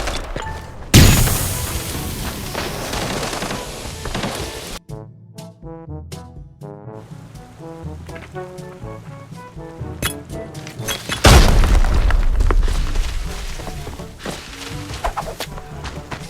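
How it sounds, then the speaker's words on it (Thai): Two loud grenade blasts boom in the video game Arena Breakout several seconds apart, each a heavy burst of noise. Quieter game sounds fill the time between them. "สุดท้ายนะครับเขาก็โยนระเบิดสวนมานะครับ"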